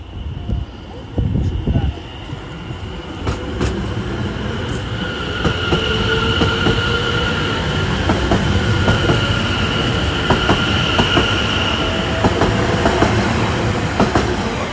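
Greater Anglia train 720106 pulls out of Cheshunt station on an Audley End service, building from a hum to a loud, steady rumble with wheel squeal and rhythmic clicks of wheels over rail joints.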